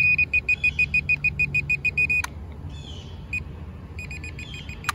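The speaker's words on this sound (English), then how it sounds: "You can hear it beeping as it's going down." SJRC F11 drone descending while emitting rapid, evenly spaced high-pitched warning beeps, loud and close, pausing briefly then resuming in quicker bursts over a low background hum.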